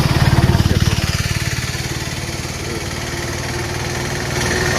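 A vehicle engine, likely a motorcycle, passes near the Subrahmanya temple at Kalasa during Nagara Panchami. Its rhythmic pulsing throb is loudest at first, then eases to a steady close running drone.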